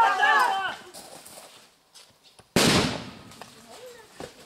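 A firecracker or training grenade blasts during a civilian training drill: one sharp, loud bang with a decaying tail, preceded by shouting voices and followed by more voices.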